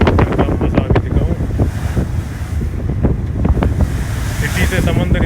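Sea waves and strong wind buffet a boat crossing near Koh Larn beach off Pattaya, Thailand, with loud gusty rumble against the microphone and splashing surf all through.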